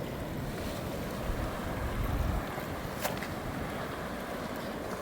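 Ocean waves wash steadily beside an open-air resort dining area in Mexico, a continuous broad surf roar with gusts of wind over the microphone and a swell of louder water midway.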